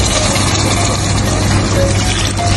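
Water pours steadily into a pot of mung bean stew, a continuous loud splashing rush with no talk over it.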